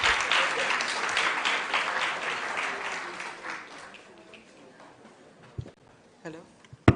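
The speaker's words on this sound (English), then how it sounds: "Please, let's keep clapping for her" Audience clapping in a parliamentary chamber during a national youth parliament mock sitting, loud and dense at first, then thinning and fading over several seconds into a few scattered claps and knocks, with faint room noise underneath.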